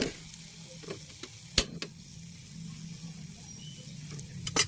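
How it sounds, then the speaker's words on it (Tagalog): Small shrimp fry in a pan as they are stirred, a faint steady sizzle broken by scattered soft clicks and scrapes of the utensil, with a few sharper taps standing out. "lagay na natin yung hipon"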